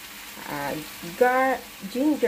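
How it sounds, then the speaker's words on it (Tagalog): Onions and mixed vegetables sauté in a pan for an Indian-style vegetable curry, a soft steady sizzle that sits low beneath a voice talking over most of the stretch. "Ginisa ko na nga guys ang sibuyas at saka yung mga gulay na ito."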